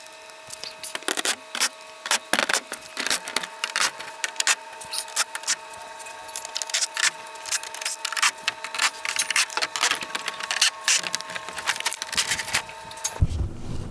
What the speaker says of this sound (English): For me, I have my little Milwaukee stubby impact.